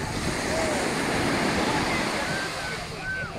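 Incoming tide washing up a Phuket beach toward the sunloungers, a steady broadband surf roar that holds fairly loud throughout with a faint whistle-like tone drifting over it.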